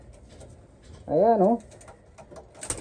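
A racing pigeon gives a short warbling coo lasting about half a second, close by. Faint room noise surrounds it and a brief word is spoken just before.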